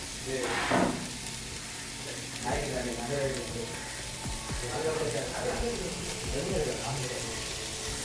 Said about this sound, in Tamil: நெய் வந்து விட்டுருவோம் பேனுக்கு உருகி உருகி போனதடி வெங்காயம் நல்லா வடிவாக வதங்கி வரணும்